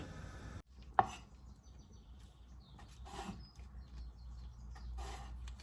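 A knife cuts cooled, cooked pork skin into small and large pieces for crackling: one sharp chop near the start, then a few softer, scattered cuts against a quiet kitchen background, with no talking.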